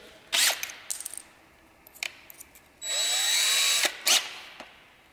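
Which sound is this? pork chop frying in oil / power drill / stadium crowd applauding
power drill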